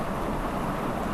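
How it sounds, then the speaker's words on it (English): Steady, dense rain drumming on a wooden roof, a constant close wash of patter and hiss with no voices, heavy enough to fill the space without any breaks. "So that's rain. And it's not even a bad rain."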